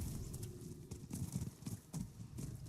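Steady clip-clop of horse hooves at a walking pace in the video game Diablo IV, fairly close, with a faint wash of background ambience and no voices.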